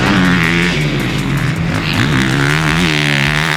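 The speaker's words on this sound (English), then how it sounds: "It's the 2021 Honda CRF450." A 2021 Honda CRF450 four-stroke motocross bike engine revs loud and close, its throttle rising and falling in sweeping pitch changes as the dirt bike accelerates and shifts, with no talking.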